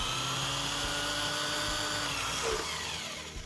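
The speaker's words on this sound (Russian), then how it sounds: "и начинаю сверлить дальше." A power drill bores at about a 45-degree angle, whirring in one continuous, steady whine close by, easing off slightly in the final moment.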